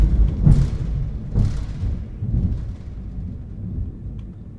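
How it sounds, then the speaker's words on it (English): Low, rolling thunder rumbles through a storm, with two heavier peaks early on that fade into a long, steady grumble, no voices present. "And that is Thunder."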